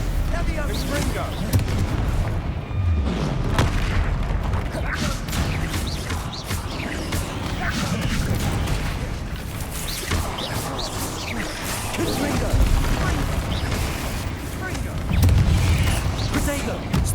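Continuous booming Stupefy and Confringo spell blasts and crashes from a Hogwarts Legacy combat sequence on PS5, dense and loud throughout, with a voice talking over the fighting.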